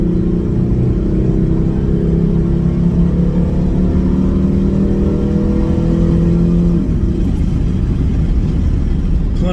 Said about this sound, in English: Give it a little gas here.